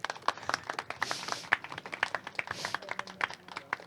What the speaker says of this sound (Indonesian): Kasih tepuk tangan buat mereka yuk.